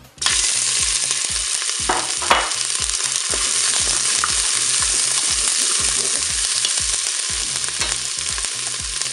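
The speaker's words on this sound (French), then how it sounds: "Allez, mon huile est chaude, je vais mettre mes oignons." Onions frying in hot olive oil in a Cookeo multicooker, a loud, steady sizzle that starts right away, with a rhythmic mechanical pulsing underneath and a few brief clinks of stirring.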